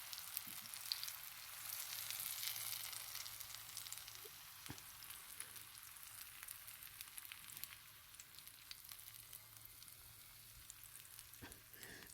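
A spicy Desi-style pancake frying in oil gives a soft, steady sizzle with faint crackles, quiet and continuous throughout, and no one speaks.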